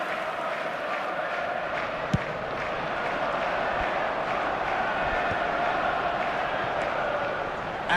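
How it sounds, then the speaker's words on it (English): In the PES 2 football video game, a stadium crowd sustains a broad, even roar of cheering and applause for several seconds, with one sharp knock partway through. "Well, at least the crowd are appreciative of his efforts."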